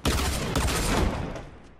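Dual pistols firing in a shooter video game, a dense, rapid burst of loud shots lasting under two seconds before trailing off.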